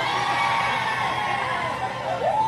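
A live crowd at a show answers a crowd check with sustained cheering, shouting and whoops, loud and continuous, with one high rising whoop near the end.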